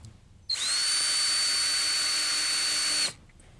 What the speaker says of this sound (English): the other can put in a screw